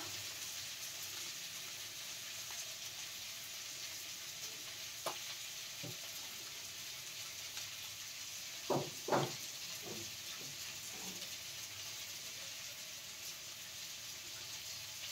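Capsicum frying in a pan gives a steady faint sizzle throughout, with a few soft clicks of stirring near the middle.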